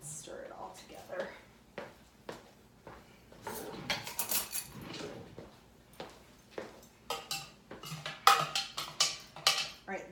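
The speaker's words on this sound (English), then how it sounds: "let's stir it all together" Milk and cream cheese stirred into a freezer meal for the Instant Pot: intermittent clinks and scrapes of a utensil against a pot or bowl, close and fairly quiet, with a voice talking at times between the strokes.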